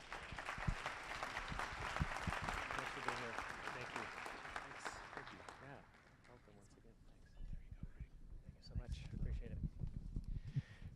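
An audience at a Rotary luncheon applauds to welcome a panel, warm steady clapping for several seconds that thins out, followed by shuffling footsteps and scattered movement as people come up.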